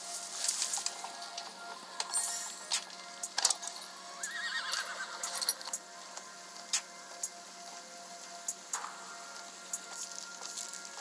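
A horse in the video game Green Glass neighs and whinnies several times, with clip-clop hoofbeats and light rustling between the calls; all of it is faint and fairly distant, with no talk.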